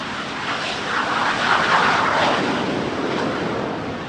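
A Fiat G91 jet flies past at an airshow, its broad roaring engine noise swelling to a peak midway and then easing slightly, steady and fairly loud with no talk.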